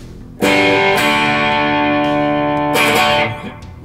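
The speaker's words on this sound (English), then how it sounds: "But now in the exercises I'm gonna add some distortion." Distorted electric guitar playing sustained, buzzing chords, loud and close, with a short pause before a second strummed chord rings out and fades.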